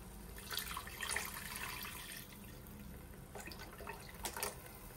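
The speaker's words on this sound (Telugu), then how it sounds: "ఇందులో మనం ముందుగా వాటర్ తీసుకున్న చింతపండు రసాన్ని ఇందులో పోయాలి" Thin tamarind juice poured and splashing into a pan for fish curry, a soft uneven trickle with a few stronger gushes, fairly quiet.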